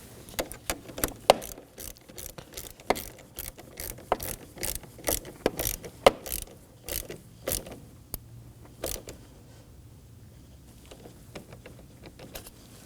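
A ratchet snugs down the 10mm nut on a battery terminal of a 2015-2023 Nissan Maxima 3.5L V6, clicking in quick uneven bursts of sharp pawl ticks, close and alone, tapering off to a few last clicks.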